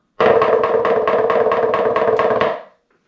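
Rubber drumsticks strike a metal cymbal in a rapid run of about ten evenly spaced hits with a soft, damped attack, then a short ring that fades out.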